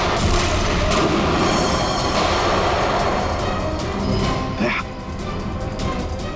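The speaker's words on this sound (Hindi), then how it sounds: "गोलियां चला कौन रहा है?" Gunfire in a crime-drama action scene comes as heavy, booming shots that blur into a loud, dense rumble, close and sustained, easing off slightly near the end.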